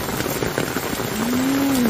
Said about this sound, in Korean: 비가 많이 오고 있어요.